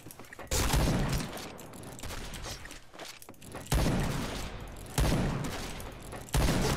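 Bursts of rapid gunfire from the Point Blank video game, several loud repeated volleys with sharp onsets and brief gaps between them, mostly alone.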